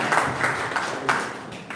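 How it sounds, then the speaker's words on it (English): An audience applauds after a doctoral defence, a steady, dense patter of clapping at moderate volume that holds evenly with a few sharper bursts. "we can give a round of applause"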